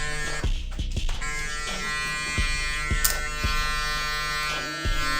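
An electric hair clipper buzzes continuously at close range while cutting a high taper, its steady hum broken by a few brief ticks and taps as the blade works through the hair.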